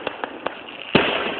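Fireworks display at Gatlinburg in 2009: several sharp distant pops in a quick irregular run, then a bigger louder burst that rumbles on, with no talking.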